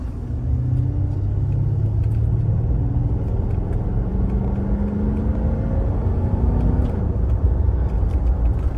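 A 1992 Mercedes-Benz 500E W124 accelerates with a steady, loud low engine rumble and rising drone held for the whole stretch, close by and without voices.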